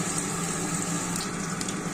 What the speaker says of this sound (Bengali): এই মুহূর্তে ম্যারিনেট করা পনিরগুলো ছেড়ে দেওয়া হচ্ছে